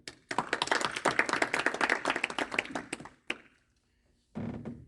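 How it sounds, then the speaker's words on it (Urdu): Audience applause at an Urdu poetry reading, dense clapping that swells for about three seconds, then drops away into quiet, followed by a low murmur at the end. "بہت اچھا جناب, تالیاں."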